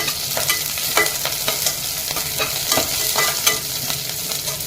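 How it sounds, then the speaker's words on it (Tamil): Curry leaves and softened onions fry in a pan for a traditional chicken curry. A bright, close sizzle runs throughout, broken by frequent scraping stir strokes, and no one speaks. "இப்போ கொஞ்சம் கருவேப்பிலை போடுறேன்."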